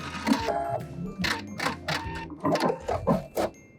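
A sewing machine back stitches a sweater hem in short, rapid bursts of needle clatter separated by brief pauses.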